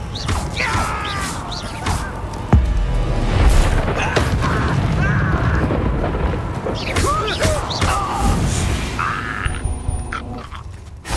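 Booming Confringo spell explosions in Hogwarts Legacy combat, heavy thuds and blasts mixed with mechanical scraping and creaking, plus brief grunts, loud and continuous throughout.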